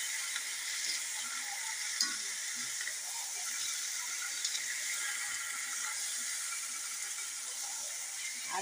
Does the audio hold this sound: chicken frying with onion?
yes